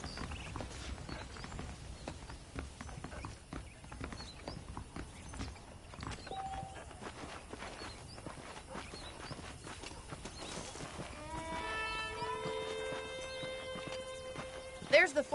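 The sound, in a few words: saddled horses walking, hooves clip-clopping, from a video game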